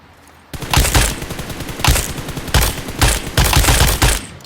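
Loud, close gunfire in PUBG Mobile comes in several quick automatic bursts separated by short pauses. Each burst is a rapid rattle of punchy shots, with no voices over it.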